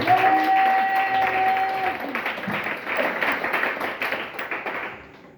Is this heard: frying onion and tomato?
no